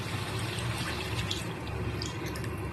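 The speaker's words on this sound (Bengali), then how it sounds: "এবার আমি পরিমাণ মতো জল দিয়ে দেবো" Water is poured into a pan of potato and egg curry, giving a steady, close splashing stream over a low background hum.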